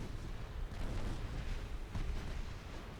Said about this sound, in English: Another ammo deck blows a hole in the bottom of the ship